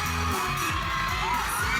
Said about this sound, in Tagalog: Grabe yung crowd!